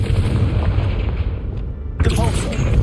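Confringo blasting curse explosion in a wizard video game, a sudden sharp fiery blast cutting through steady low rumbling background noise, followed by crackling tail.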